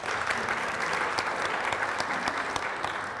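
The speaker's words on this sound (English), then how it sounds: "A round of applause for Barry Waterman." Audience applause for a panelist at a county economic outlook forum, steady dense clapping from a seated crowd throughout, moderately distant and without talk.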